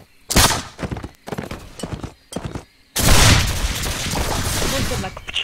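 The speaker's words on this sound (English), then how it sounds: "I love the noise of the guns when you're further away from them." Distant gunfire in the game Caribbean!: a series of sharp popping shots over roughly three seconds, followed by a denser, steady wash of rumbling gunfire noise.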